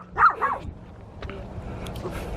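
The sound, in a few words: dog barking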